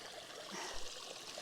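A small mountain stream near Ben Chonzie in Scotland trickles softly and steadily, a faint, close water burble with no voices.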